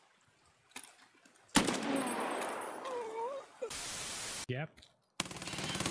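Gunfire in the video game Escape from Tarkov: sharp bursts of shots and a sustained loud stretch of noise, with someone briefly speaking at the end.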